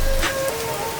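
Heavy rain pours in Sialkot, a dense, steady hiss of drops striking surfaces close by, with a faint tone running underneath.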